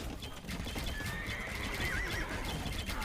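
Horses in a real-time strategy video game whinny and neigh over busy clip-clopping hooves and battle clatter, all heard quietly in the background.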